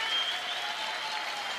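A large crowd applauds steadily at a curling rink as the Canadian team leaves the ice, a continuous, even wash of clapping without breaks.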